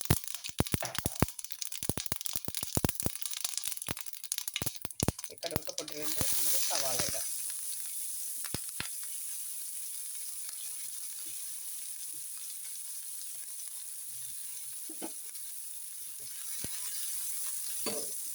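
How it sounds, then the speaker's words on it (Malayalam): Mustard seeds and urad dal splutter in hot oil with a dense burst of sharp crackles and pops, then settle into a steady hiss broken by occasional late pops. "എണ്ണയൊക്കെ തിളച്ചിട്ടുണ്ട് കടുകിടാം"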